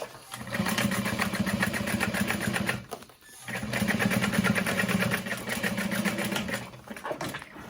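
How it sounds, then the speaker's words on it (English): A sewing machine top stitches a cross-body sling bag in two long steady runs of rapid needle chatter, with a short pause between them and the motor close and fairly loud. "And then we'll top stitch that"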